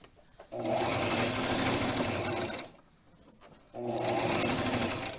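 A sewing machine stitches fabric for a Barbie doll dress in two loud, steady runs of rapid mechanical whirring, separated by a short pause in the middle.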